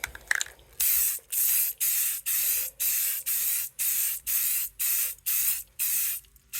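Repeated bursts of aerosol spray paint on a gun with a fabric suppressor cover, about ten short hissing sprays in an even rhythm, each with a brief pause between, close and fairly loud.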